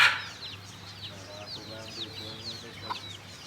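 Chickens cluck and chirp in short bursts around a mini zoo, with a faint low hum and quiet background murmur.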